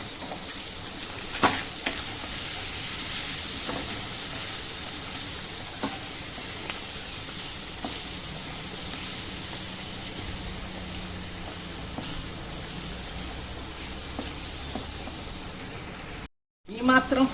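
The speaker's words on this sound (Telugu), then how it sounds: "కొంచెం ఉప్పు వేసుకొని, పసుపు, కొంచెం కారం వేసుకొని ఫ్రై చేయాలి." Tomato pieces frying in a pan with salt, turmeric and chili powder for a paneer curry, a steady close sizzle running throughout with occasional stirring clicks and a brief dropout near the end.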